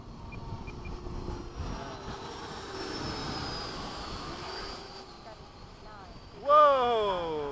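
Jet roar from Hawk aircraft in a four-ship formation pass at Bayside, a steady distant rumble with a sharp rising whine near the end, heard under radio-like chatter.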